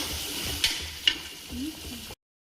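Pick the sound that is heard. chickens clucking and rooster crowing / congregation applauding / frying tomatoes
frying tomatoes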